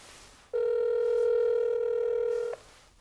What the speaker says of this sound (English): We're dialing. Just put the phone like right here.